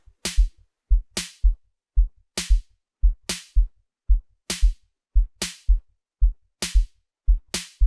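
Amapiano beat in FL Studio with a deep kick layered with two snare samples, sharp bright snaps landing on each kick in a steady repeating pattern, with extra low bumps between hits, no voices.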